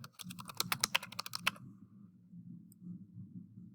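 Quick burst of keystrokes on a computer keyboard, a close, crisp run of clicks that stops after about a second and a half, leaving only a low hum.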